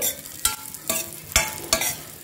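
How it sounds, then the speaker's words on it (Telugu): Dry fruits being roasted and stirred in a hot pan for a dry fruit laddu, with a steady dry sizzle and four distinct scraping stir strokes spaced through the short stretch, close and fairly loud, with no talking. "వీటిని కూడా వేపుకోవాలి. వేపుకొని పక్కన పెట్టుకోవాలి."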